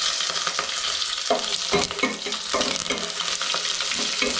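Slit green chillies fry in hot oil with a bright, dense sizzle, broken by a few louder spits and crackles as they hit the pan.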